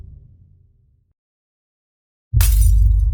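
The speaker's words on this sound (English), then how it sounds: "Arthur woke up to a shattering noise in the living room." A sudden loud shattering crash in a living room at night breaks a near-silent pause, a sharp burst of breaking debris that rings on.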